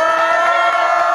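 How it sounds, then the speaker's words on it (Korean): A crowd at a political rally in Changnyeong cheers in a brief, loud burst of sustained voices, with no distinct clapping standing out. "격려 박수 한번 부탁드립니다"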